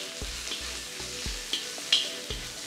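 Onion, green chilli and ginger frying in a pan for a village-style goat offal curry, a steady close sizzle broken by several soft thuds and scrapes of stirring, with a few brief sharp clinks.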